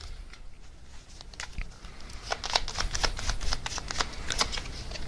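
A deck of tarot cards is shuffled close by, with soft riffling flicks that build into a dense, rapid patter of cards slapping together over several seconds.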